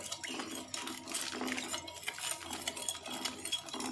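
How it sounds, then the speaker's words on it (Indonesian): A spoon stirs sugar into warm water in a bowl while preparing pizza dough, giving quiet, steady clinks and scraping against the container that repeat throughout at close range. "Jadi kita campurkan sendok makan gula, kemudian kita aduk."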